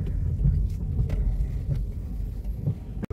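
A Skoda Kushaq 1.0 TSI and a Hyundai Verna in a drag race, a deep steady engine rumble and road roar from inside the car, holding level before cutting off abruptly at the end.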